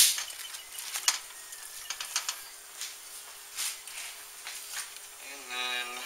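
Hamburger meat browning in a pan, a quiet close sizzle broken by scraping stirs and clicks of a utensil, with a brief voice near the end.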